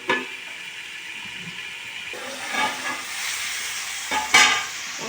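Soft eggplant (brinjal) pieces frying in a pan, a low steady hiss and sizzle with a few stirring scrapes and clinks, close up and without speech.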